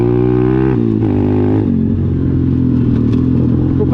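A 125cc motorcycle engine revs loud and close, its pitch stepping up and down through a few quick shifts over a steady rumbling idle.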